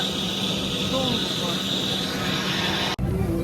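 Steady airplane cabin drone from the jet engines, a constant broad roar with a faint hum, while voices talk over it.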